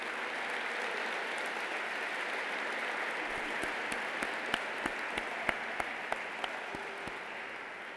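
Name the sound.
audience applause for the faculty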